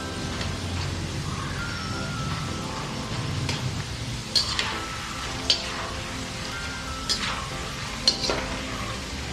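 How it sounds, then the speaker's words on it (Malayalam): Jackfruit slices deep-fry in hot oil with a soft, steady bubbling hiss, broken by a few sharp clinks and scrapes from a utensil. "ചക്ക ആദ്യം എണ്ണയിൽ ഇടുമ്പോൾ തീ കൂടി തന്നെ ഇരിക്കണം. പിന്നെ നമ്മൾ കൺട്രോൾ ചെയ്ത് തന്നെ വറുത്തെടുക്കണം."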